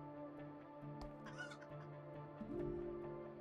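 A chicken in the hotel-decorating video game Hotel Renovator gives a few short clucks and a brief crowing call over a steady low background hum, with no voices.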